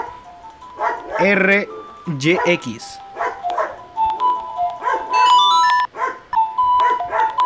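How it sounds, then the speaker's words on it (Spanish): A dog barking in Zelda Ocarina of Time, short yappy game barks mixed with melodic in-game music notes and a voice talking over them, moderately loud and close. "Ignoran al perro que está ladrando."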